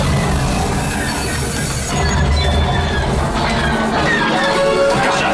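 Simulated train rumble and squealing wheels on the Millennium Falcon: Smugglers Run ride at Disneyland, a loud, continuous roar with metallic screeching that shifts midway through.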